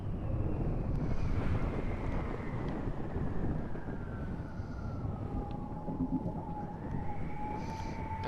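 Wind rushes steadily through the video game Exo One, a broad noisy blowing that swells and eases, with a thin high whistling tone that glides down and then up again over it, and no speech.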